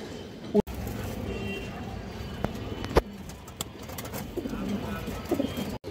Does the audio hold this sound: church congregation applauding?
no